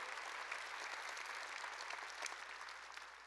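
A church congregation claps together during a sermon, a dense, steady patter of many hands held at an even, fairly quiet level with no voices over it.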